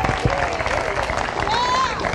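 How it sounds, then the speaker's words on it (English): Comedy club audience in Omaha breaking into applause and whoops, a short burst of clapping and cheering with a whistle and crowd noise, brief and fairly loud. "Give yourselves a round of applause for coming out."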